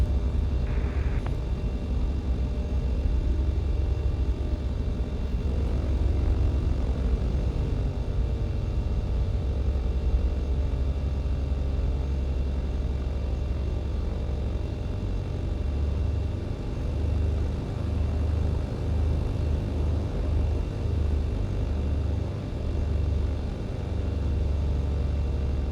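A simulated aircraft taxis in Microsoft Flight Simulator 2020, giving a steady low engine rumble and drone with slowly shifting tones throughout. The sound is loud and continuous, with no talking.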